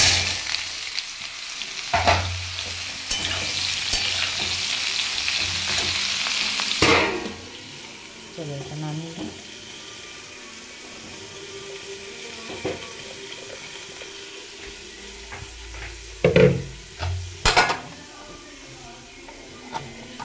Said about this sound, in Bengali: ঝিঙে আলুটা ভাজা হতে হতে